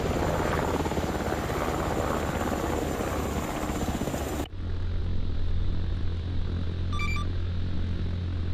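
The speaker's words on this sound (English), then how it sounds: "Dude, nothing like catching an attack helicopter." Attack helicopter rotor noise in a military simulation video game, a loud steady drone that suddenly drops to a muffled low rumble partway through, with brief faint beeps near the end.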